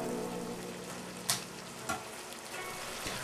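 Ma po tofu sauce with soft tofu in a covered pan, giving a steady, quiet bubbling sizzle throughout with a couple of faint clicks.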